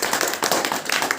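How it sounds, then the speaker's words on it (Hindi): Brief burst of audience clapping at a talk about joining Modi Care, with uneven, close individual claps for just over a second. "तो एक इनके लिए जोरदार ताली को चाहिए।"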